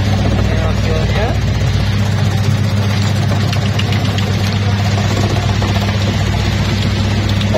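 A motorised machine slices cassava for kerupuk sanjai crackers, giving a loud, continuous mechanical drone with a low, engine-like rumble and steady vibration throughout.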